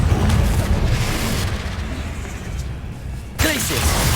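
A Confringo blasting spell detonates in Hogwarts Legacy, a loud booming burst over continuous rumbling battle noise, followed by a sharp new impact late on and brief speech.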